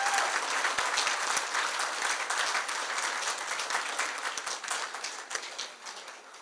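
A crowd at a Democratic primary election night celebration breaks into dense, sustained applause, loud and steady throughout before easing slightly toward the end.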